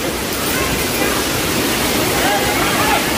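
The waterfall at Rani Dahra in Chhattisgarh gives a loud, continuous broadband rush of falling water that stays close and steady throughout, with no pauses.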